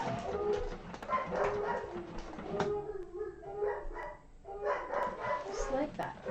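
Excited household dogs yelp and bark in short bursts, including a large puppy, sounding from nearby in a home where a person talks over the commotion.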